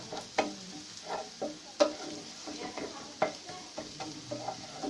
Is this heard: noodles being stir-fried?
yes